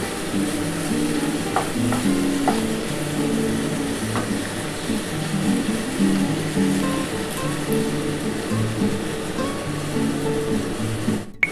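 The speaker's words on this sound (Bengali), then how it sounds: "খুবই হালকা করে পেঁয়াজটা ভাজতে হবে" Sliced onions fry lightly in a pan for a Bengali mutton and potato stew, a steady soft sizzle with occasional stirring scrapes, continuous and close, with no talking.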